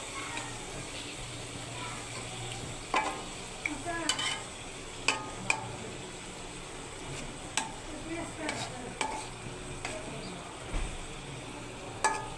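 Fish fries with spices in a pan, holding a steady quiet sizzle. Sharp scrapes and clinks of a utensil mark flipping and stirring at irregular intervals.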